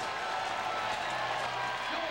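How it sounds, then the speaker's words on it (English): Crowd at the 1998 X-Games BMX vert event roaring and applauding as a steady, loud wash of cheering, with a commentator talking over it. "This crowd is going nuts."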